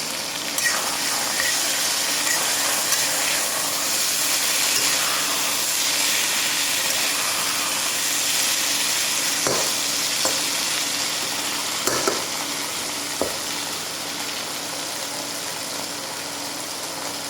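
Marinated meat sizzles and fries in a wok on a 2,200-watt induction burner, a loud steady hiss with occasional scrapes and clanks of stirring, and no talk.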